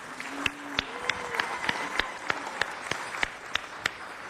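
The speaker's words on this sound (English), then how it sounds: "Give him a round of applause." Applause in city council chambers for the mayor: scattered, sparse claps from a small crowd, individual hand claps standing out in an irregular rhythm over quiet room tone.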